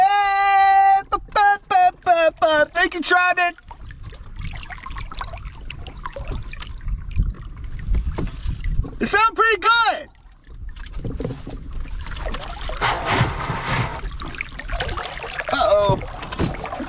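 A Walker Bay 8 sailing dinghy moves through water, with steady splashing and rushing water close by, broken by bursts of a man's singing and exclaiming over it.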